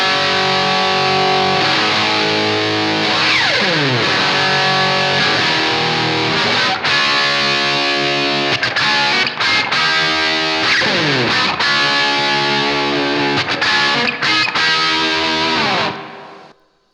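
An electric guitar through a distortion pedal with a little reverb plays loud crunchy chords and riffs with short pauses between phrases, ringing out and fading at the end.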